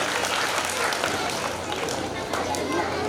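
Schoolchildren at a school annual day function clap and cheer together, a dense, steady wash of applause and excited young voices filling the hall throughout.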